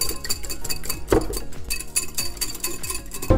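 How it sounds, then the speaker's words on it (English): An egg is cracked into a bowl and whisked, a busy run of close metallic clinks and scraping taps against the bowl with no voices. "I'll go ahead and crack my egg in this bowl and then whisk it separately"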